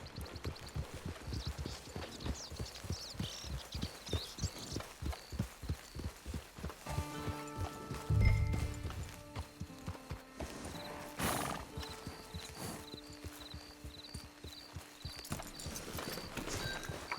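Steady clip-clopping of a horse walking, hooves thudding in an even rhythm, with a few brief tonal sounds and a snort partway through.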